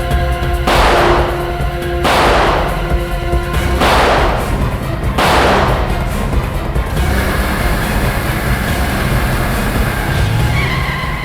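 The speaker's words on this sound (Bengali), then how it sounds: "দেখছিস কি, গুলি চালা।" Gunfire sound effects in a Bengali TV crime drama car chase: four loud, blasting bursts spaced roughly every one and a half seconds, each ringing out briefly, followed by a steadier rumbling bed.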